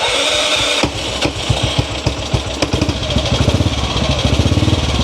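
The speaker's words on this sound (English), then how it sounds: "Once it's installed, all you need to do to start your bike is push the button." A restored motorcycle with a newly fitted electric start button fires up after a moment of background hiss, catching into a loud, close, rapidly pulsing engine beat that settles into a steady idle.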